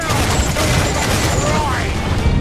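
Naval cannon fire from a sailing ship in Assassin's Creed 4 Black Flag, a dense, loud broadband roar of booms and blasts running throughout under shouted crew voices.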